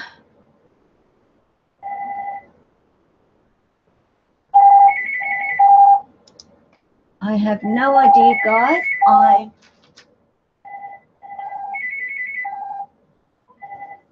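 A phone ringtone during a live stream: repeated bursts of electronic beeping tones in a steady pattern. A voice talks briefly in the middle.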